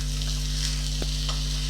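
Bun dosa batter cooking on a hot pan over low flame, a steady close sizzle with a soft scrape as it is flipped, over a constant low hum.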